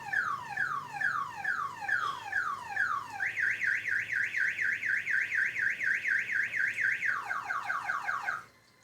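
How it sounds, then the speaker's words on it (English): A loud car alarm cycling through patterns: repeated descending whoops, then a rapid warbling siren, then chirps before it cuts off abruptly. "that's a sensitive alarm"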